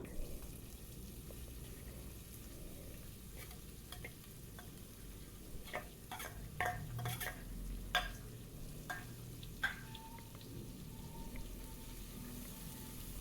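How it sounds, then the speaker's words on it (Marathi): Onion sautéing in a pan for whole masoor dal, a soft steady sizzle with scattered stirring scrapes and clicks, close but quiet. "परतवून घेणार आहे कांदा अगदी छान गुलाबी रंगाचा होईपर्यंत परतवून घ्यायचा"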